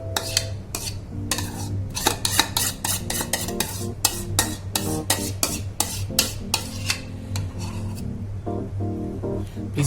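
Marinated black-eyed peas being stirred in a cooking pan, with steady scraping and clinking of a metal utensil against the pan in quick repeated strokes, close and fairly loud, no talking.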